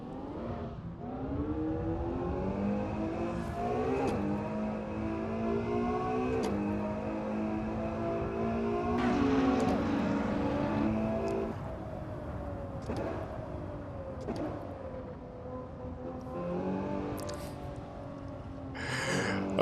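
A Ferrari 812 Superfast accelerates along a road, its engine note rising again and again through the gears with brief dips between shifts, loud and continuous from close inside the car.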